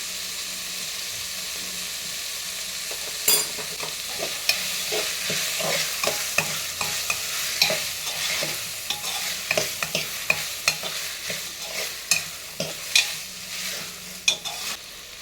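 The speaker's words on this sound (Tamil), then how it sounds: "இதுவே நல்லா ஒரு ரெண்டு நிமிஷத்துக்கு வதக்கலாம்" Ingredients for coconut milk rice sauté in a pan, a steady sizzle broken by frequent scraping and clattering stirs from a spatula, close and moderately loud, with no talk.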